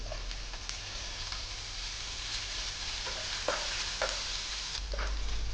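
Finely chopped green chillies sauté in a pan for veg momo filling, a quiet, even sizzle with occasional light stirring clicks and a low hum beneath.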